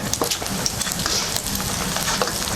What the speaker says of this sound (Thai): เราก็จะทอดให้มันกรอบไปนะทุกคน